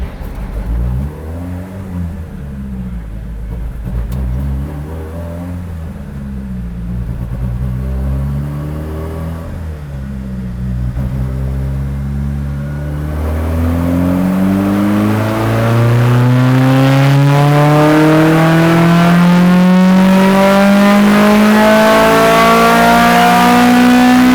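Toyota MR2 Spyder with a swapped 2.7L engine on a dyno, loud and close: a few short revs, then one long sustained pull with pitch climbing steadily toward high rpm.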